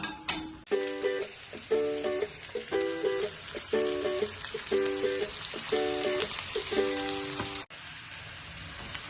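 Sliced onion fries in hot oil for an Ahmednagar-style chicken curry, a continuous crackling sizzle heard close up, with rhythmic background music playing over it.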